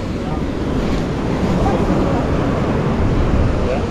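Ocean surf roaring steadily at a secluded cove in Bali, with strong wind buffeting the microphone, a continuous dense wash of breaking waves.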